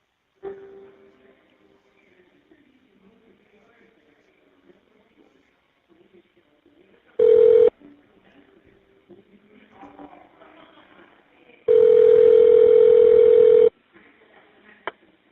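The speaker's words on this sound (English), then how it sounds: "The number now being dialed." DTMF tones dial a number on a prison phone call through an Evercom inmate calling system: a short tone burst, then a longer two-second tone, over a faint low line hum with quiet background murmur.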